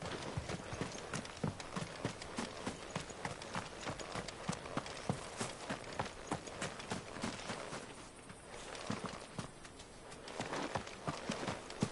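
A horse gallops back to the stables in the video game Final Fantasy 16, its hooves pounding in a fast, steady rhythm close by that eases briefly before picking up again.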